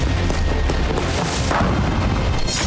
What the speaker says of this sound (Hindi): डोनेस्क और लुहांस्क के जिन इलाकों में रूसी सेना मौजूद है, वहां भी ड्रोन धमाके हुए।